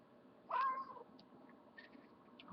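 A female cat in heat lets out a short, strained yowl followed by quieter grumbling sounds over a low background hum.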